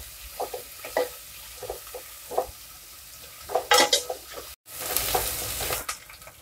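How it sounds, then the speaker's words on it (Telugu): Onions and a sprig of curry leaves frying in a pan, a soft sizzle under scattered clinks and scrapes of a spoon stirring against the metal, with a brief cut then a louder burst of sizzling toward the end. "ఇందులోనే ఒక రెమ్మ కరివేపాకు, ఉల్లిపాయ ముక్కలు బాగా ఎర్రగా అయ్యేంత వరకు వేయించుకున్నాము"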